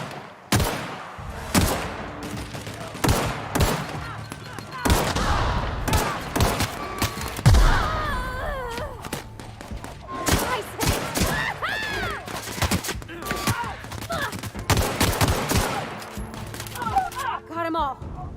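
Repeated gunfire in The Outer Worlds, with sharp shots popping in irregular bursts, some close and loud, amid thuds and impacts while voices talk between and over the shooting.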